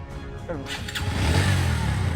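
A motorcycle engine catches on a single kick and settles into a steady, close idle rumble after a brief rattle at the start.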